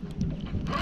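Wind buffeting a microphone on an open fishing boat while catfishing, a continuous low rumbling gust noise with no clear pauses.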